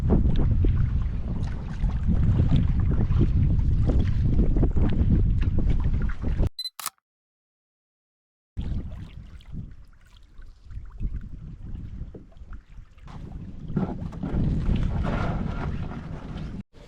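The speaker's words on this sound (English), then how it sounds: "Good day to be off the big lakes, boy, when it's windy and wavy like this." Steady wind buffets the microphone over rushing, choppy waves on a lake in Algonquin in spring, briefly cutting out in the middle before the blustery noise returns.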